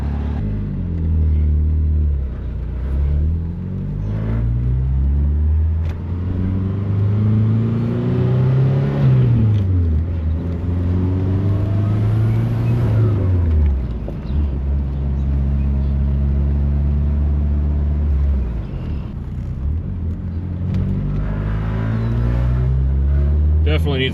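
A rare old sports car, parked for 35 years, runs without a muffler. Its engine rumbles with deep, wavering revs that swell and fall repeatedly, and people talk over it.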